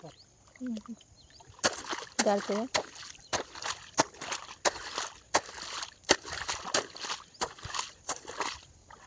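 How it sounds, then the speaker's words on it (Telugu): Water splashing down in repeated bursts, loud and close, with short gaps between splashes; a few brief voice fragments appear early on. "నీళ్ళు పడతా ఉంటాయి"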